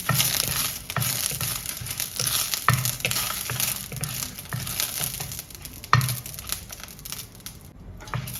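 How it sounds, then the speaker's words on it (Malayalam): Dried red chillies frying in hot oil for Kerala-style chicken curry, a steady close crackling sizzle with occasional sharper pops and scraping stirs throughout, no voices. "ഇപ്പോൾ മുളകായിട്ടുണ്ട് നമ്മൾ മുളക് വറുത്ത് കോരുന്നു"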